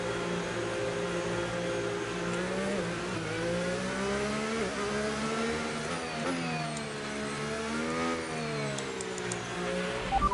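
F1 race car in the F1 25 game at Jeddah, its engine holding a steady high whine whose pitch sweeps up and down with revs through the whole stretch, loud and continuous with no talk.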